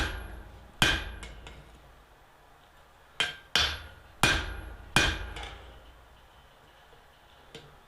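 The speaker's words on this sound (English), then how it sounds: "get it up on an edge, strike it down diagonally" A hammer strikes forged iron barn door hardware in several sharp, ringing metallic blows spaced irregularly, with a pair close together and a faint final tap, each decaying quickly in a quiet room.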